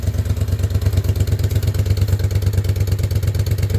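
A Moto Guzzi V50 Monza motorcycle engine runs with a steady, rapid pulsing beat and a slight mechanical clatter, loud and close, no voices.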